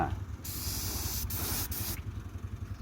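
A spray gun lays down primer paint over rust-prepped metal, giving a steady loud hiss for about one and a half seconds with two brief dips, over a low background rumble.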